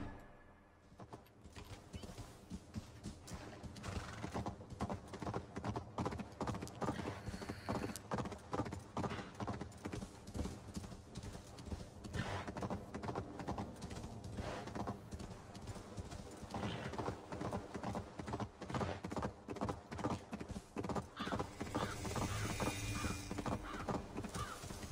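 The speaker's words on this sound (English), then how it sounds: "This horse is booking it, and I appreciate it." Rapid, steady hoofbeats of a galloping horse in a video game pound on without pause, loud and close, with faint mechanical clatter mixed in.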